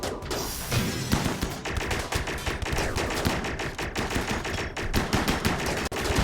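Gunfire in the RimWorld video game, a dense, continuous barrage of rapid shots and crackling bursts filling the whole stretch, steady and fairly loud with no voices.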